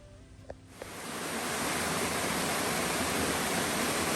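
A small waterfall on the Appalachian Trail rushes in a steady, dense roar that swells up after a few faint taps and then holds loud and unbroken.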